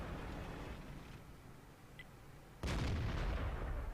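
A Panther tank's main gun fires once in World of Tanks, a sudden loud boom that cuts in over steady low engine rumble and holds as a heavy roar to the end, with no voices.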